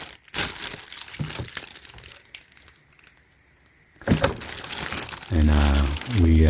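A plastic bag taped around a brand-new soap dispenser crinkles and crunches in close, irregular bursts, with a few sharper rustles toward the end and speech around it.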